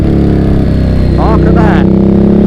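A Ducati Monster motorcycle engine revs hard and close, its loud, throbbing, pulsing note rising and falling through a burst of throttle, with no talk over it.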